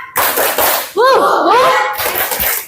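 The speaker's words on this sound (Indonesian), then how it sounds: "sekali lagi tepuk rimba." Children in a classroom perform a rhythmic clapping chant, sharp hand claps in a patterned sequence alternating with shouted voiced calls, close and loud.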